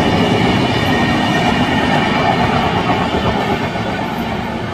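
A train rolls past on a railway track right beside a building near the Gajanan Maharaj temple in Shegaon, a loud, steady rumble with clattering wheels that holds throughout and eases slightly at the end.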